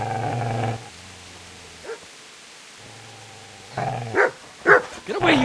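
A dog barks and yips in Kingdom Come: Deliverance, giving a few close, sharp barks near the end, set against a droning low hum and quiet stretches.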